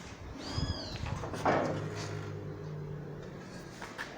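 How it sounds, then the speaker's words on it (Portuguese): A frightened cat makes a low growling, grumbling sound close by, with a brief yowl near the start and faint background rumble. "O bicho tá roncando igual o preado."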